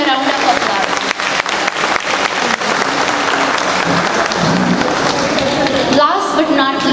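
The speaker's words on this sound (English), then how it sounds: "So give them a round of applause." A crowd at a Marathi Koli dance event gives loud, sustained applause for a dance group. The clapping fills the whole clip with cheering and voices mixed in.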